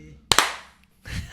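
Two sharp hand claps ring out close together, followed a moment later by a softer, shuffling burst, with no talk over them.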